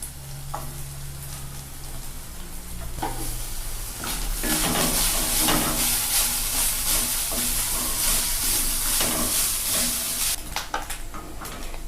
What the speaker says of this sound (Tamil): நம்ம இப்போ மசாலா வறுத்துக்கிறதுக்காக கொஞ்சமாக தேங்காய் எண்ணெய் விட்டுருக்கேன்.